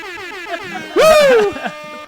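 A blaring air horn sound effect fired from a soundboard, one loud sustained blast of about half a second standing out clearly above a bed of ongoing conversation.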